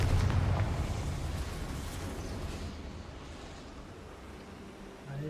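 A Confringo fire spell in a Hogwarts video game erupts in a loud, broad burst of flame and rumble that slowly fades away.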